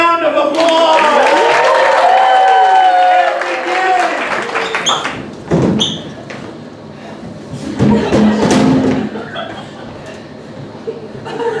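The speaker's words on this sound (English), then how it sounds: "Give her a round of applause." Audience applause breaks out at a live comedy and music show, a broad, uneven clatter of clapping that rises in bursts after a stretch of music, with talking over it.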